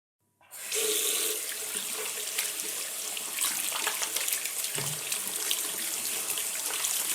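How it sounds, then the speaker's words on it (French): Running water from a tap pours steadily over pieces of liver being washed in a colander, a constant close splashing rush that starts abruptly and continues throughout. "Alors on prend une passoire et on lave abondamment."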